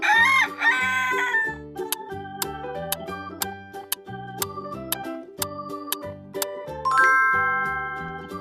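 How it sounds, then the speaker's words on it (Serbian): A rooster crows near and loud at the start, then a bright chiming, tinkling melody of bells and tones takes over for the rest of the stretch. "to je petao"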